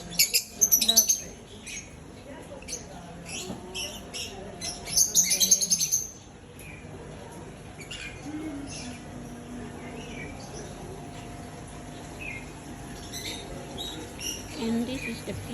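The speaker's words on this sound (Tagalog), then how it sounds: "Look at the birds. Look at the birds. Lovebirds." Pet lovebirds chirping indoors, with bright bursts of high calls near the start and again around the middle, then softer scattered tweets over a low background hum.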